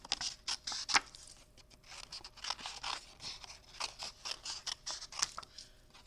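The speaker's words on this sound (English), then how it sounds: "I'm going to trim my little flowers away." Small scissors trimming around stamped paper flowers, with quick, close crunchy snips coming in uneven bursts and short pauses while the paper is turned.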